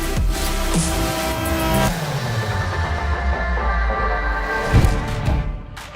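A Ferrari and a Porsche accelerate hard side by side in a drag race, their loud engines roaring and rising in pitch, fading slightly, then surging again near the end.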